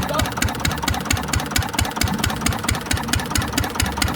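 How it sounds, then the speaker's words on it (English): An antique single-cylinder Witte diesel engine thumps steadily under load, its strong regular low beat close and loud throughout, with no voices. "As he applies load, the engine's going to slow down."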